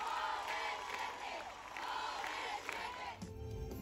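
Concert crowd at a baseball stadium in Veracruz roars and cheers for a pop group, a loud surging mass of shouts and whoops that cuts off abruptly near the end.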